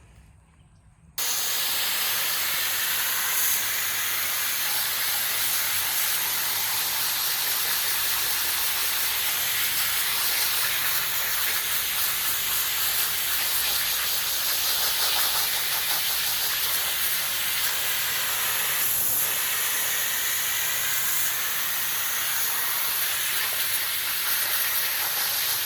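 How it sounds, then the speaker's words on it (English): A garden hose spray head blasts water over a pool filter cartridge, a loud, continuous hissing spray that starts abruptly and runs unbroken for over twenty seconds with no talking. "I'm going to be using just a spray head on a hose"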